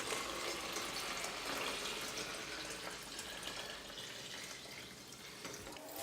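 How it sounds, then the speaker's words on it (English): Water runs steadily into a pitcher holding lemon peels for detox water, a continuous soft splashing hiss with no pauses throughout. "finally just add the water to the pitcher"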